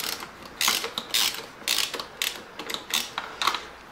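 A ratchet wrench loosens a bolt on a Kawasaki ZX-14R radiator, giving close, repeated clicking bursts in a regular back-and-forth rhythm, about seven strokes with short gaps between.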